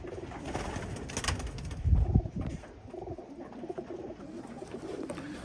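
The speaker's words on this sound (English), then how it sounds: "You can see all these birds. Look at the health of these pigeons." Racing pigeons coo in a one-loft race facility, soft repeated throaty coos with a louder burst midway and faint rustling, fairly close with a quiet airy background, and no talking.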